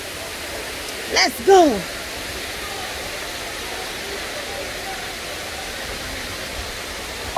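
Dunns River Falls in Ocho Rios, Jamaica, a steady broadband rush of cascading water filling the scene, with brief voices speaking over it near the start.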